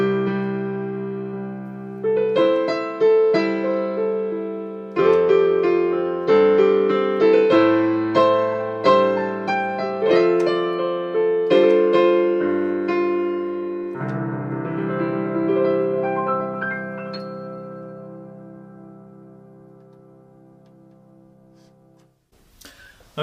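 Yamaha P115 and P255 digital pianos played one after the other, a sequence of clear piano chords and melodic phrases, moderately loud, with the last notes ringing out and slowly fading.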